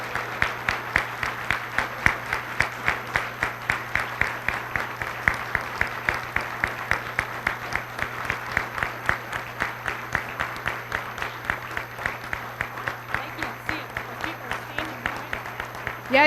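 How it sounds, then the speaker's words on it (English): An audience claps rhythmically for outstanding volunteers at a 2018 recognition event, a long steady run of unison clapping heard over a low constant hum, moderately loud throughout. "you've got a standing ovation"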